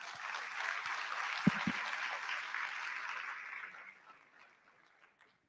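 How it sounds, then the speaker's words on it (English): Applause from the audience at a physician assistants' induction ceremony, a steady round of clapping lasting about four seconds, with a couple of low thumps partway through, that gradually fades away to near silence. "You can clap to that."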